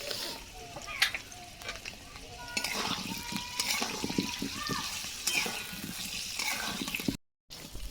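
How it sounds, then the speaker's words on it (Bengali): Potatoes fry in the oil left from frying onions for chicken do pyaza, with a steady sizzle and bubbling, light clatter, and a short break near the end. "তার ফাঁকে পেঁয়াজ ভাজার তেলে আলু ভেজে দেবো"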